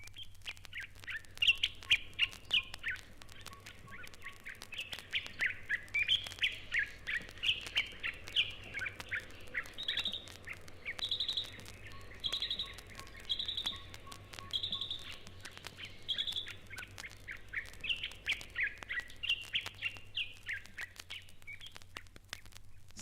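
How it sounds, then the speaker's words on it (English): A yellow-whiskered greenbull sings in an East African treetop chorus, its bright chirping phrases repeating steadily and fairly close, while the monotone song of a golden-rumped tinkerbird carries on quietly in the background. "the yellow-whiskered greenbull sits high in bushy treetops and adds his voice to the bird chorus"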